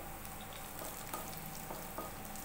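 Cumin seeds sizzling steadily in hot oil in a frying pan on a gas stove, a dense continuous crackling hiss with small pops, close and even throughout.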